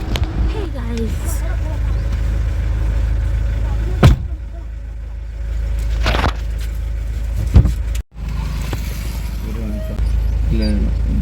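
A car drives along with a steady, close engine hum heard from inside the cabin. A few brief knocks break the hum now and then, and voices talk over it.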